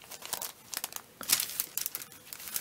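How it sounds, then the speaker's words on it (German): Paper breakfast bags for a Christmas star craft are stacked and clipped together with clothespins, giving a run of close, crisp crinkling and rustling bursts with sharper tearing-like scrapes at uneven intervals, no voices. "Und dann nehme ich Wäscheklammern und klammern wir das so zusammen."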